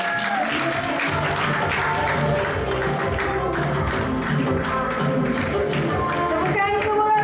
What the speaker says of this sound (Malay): Teruskan tepukan gemuruh anda.